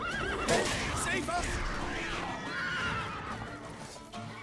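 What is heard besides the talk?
horse neighing in the video game The Witcher 3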